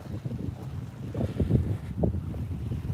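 Steady wind buffeting the microphone with a low rumble, waves of a reservoir lapping in gusts in light rain; no distinct rain patter stands out.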